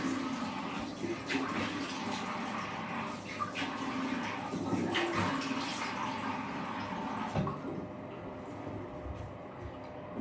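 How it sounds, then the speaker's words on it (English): Water runs steadily from a tap as a face is washed at a sink, with splashing throughout before the flow quiets near the end. "Then when I wash my face, wait a sec."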